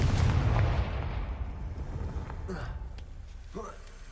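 A Confringo spell explodes in a Harry Potter video game, a loud deep boom that rolls and fades over a few seconds, followed by a voice speaking faintly.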